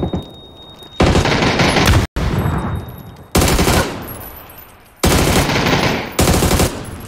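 Video game gunfire comes in four long automatic bursts, each a loud, rapid stream of shots separated by brief pauses, with no talking.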